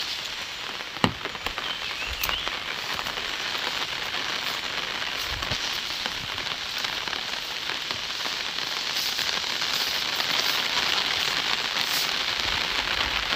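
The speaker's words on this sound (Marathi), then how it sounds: "पाऊस आलेला आहे" Steady rain patters across a Konkan forest, a dense even hiss that fills the whole stretch, with a few sharper drop hits standing out near the start and no voices.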